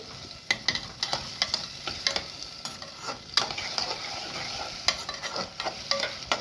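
Onions fried in a pan are stirred with a utensil, producing repeated scraping strokes in an irregular rhythm over a steady close sizzle, with no voices.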